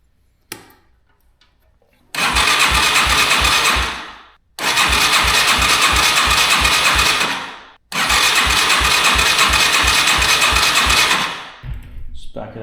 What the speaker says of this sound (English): let's just see if the bike starts with the carb the way it was.